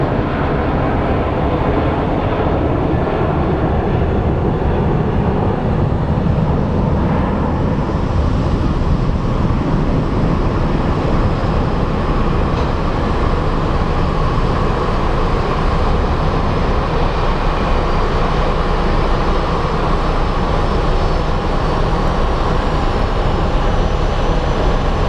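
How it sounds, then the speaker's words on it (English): A Delta Airbus A321 airliner at Phoenix Sky Harbor airport gives off a steady, loud broadband roar of jet engines that holds level for the whole stretch, with no talk over it. "And right up we have a Delta A321."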